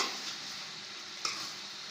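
Brinjal masala sizzles in a pan while it is stirred, giving a soft, steady hiss with one brief scrape or tap partway through. The sound is quiet, close and free of talking.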